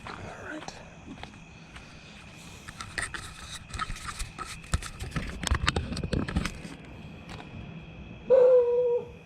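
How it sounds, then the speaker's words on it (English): A puppy whimpers with a thin, drawn-out whine near the end, after some faint yips and barks over a steady outdoor background hum. "Old puppy."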